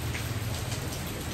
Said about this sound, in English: But it's so rainy today.